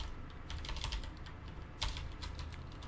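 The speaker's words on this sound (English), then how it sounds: "I cannot type today." Steady typing on a computer keyboard, close and moderately loud, with rapid uneven key clicks and a brief heavier burst partway through, no voices.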